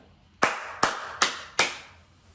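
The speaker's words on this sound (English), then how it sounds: "I'm hearing somebody clap as clear as day, and it's like they're right here clapping." Four sharp, separate hand claps ring out at an even pace, close and distinct against a quiet background.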